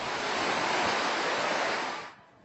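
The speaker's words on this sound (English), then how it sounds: "the staircase behind me is now basically a waterfall" Floodwater from Typhoon Haiyan pours down a staircase in a loud, continuous broadband roar like a waterfall. It holds steady for about two seconds, then drops away abruptly.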